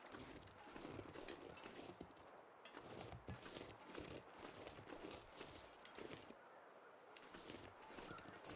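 A bear plods through deep snow in The Long Dark survival game, its heavy footsteps crunching steadily amid continuous wind and ambient noise, close by and fairly quiet, with no talking.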